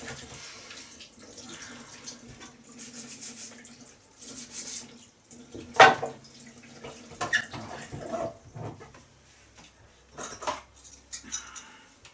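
Hands swirled and rinsed under a running kitchen tap, a soft steady splash of water with a brief louder gush midway and scattered clinks of dishes nearby.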